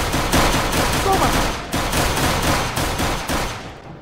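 Gunfire in the video game Minecraft rattles out in rapid automatic bursts, several loud volleys separated by brief pauses, with no voices over it.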